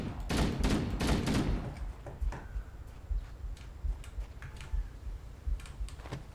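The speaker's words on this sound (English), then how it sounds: "That sounds like 50 cal." .50 cal machine gun fire in Halo: Combat Evolved, a rapid burst of loud gunshots up front, then scattered thuds and clicks of distant fire trailing off.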